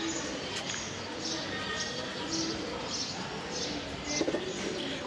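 Pigeons coo in a steady, low throaty murmur with faint wing and foot sounds, close and continuous over a busy background.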